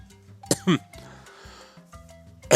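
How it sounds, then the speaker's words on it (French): Two or three sharp, brief coughs close by, spaced apart, with quiet background sounds between them. "Ah, je tousse."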